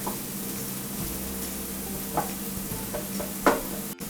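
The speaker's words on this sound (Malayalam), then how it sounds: "ഇഞ്ചിയും വെളുത്തുള്ളിയും പച്ചമുളകും നന്നായിട്ട് മൊരിയുന്നുണ്ട്" Ginger, garlic and green chilli sizzle steadily in a pan of hot oil, with a few louder stirring scrapes near the end, close and continuous.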